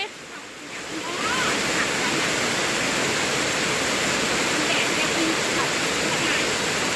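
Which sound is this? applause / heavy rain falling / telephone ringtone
heavy rain falling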